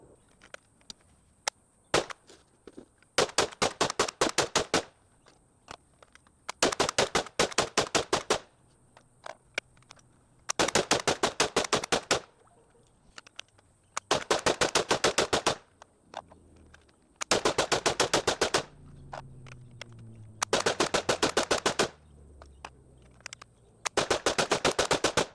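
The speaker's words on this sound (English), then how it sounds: "Let's go with another 100 rounds." Chimera rifle firing in a 2000-round endurance test: repeated bursts of rapid automatic fire, each lasting about a second, separated by short pauses, loud and close with no talking.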